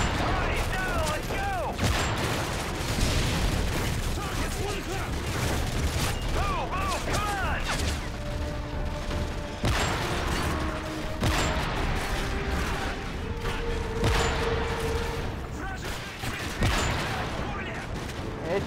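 Sharp, booming sniper shots from an MSR rifle in the Call of Duty: Modern Warfare 3 campaign, set in Paris, ring out among loud gunfire, game music and explosions, with a voice talking over parts of it.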